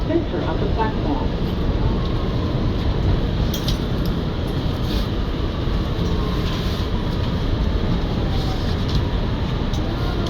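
Steady loud rumble and roar of an R211A C local subway train riding between 59 St-Columbus Circle and Spring St in New York, a continuous dense rolling noise from inside the car with faint rattles throughout.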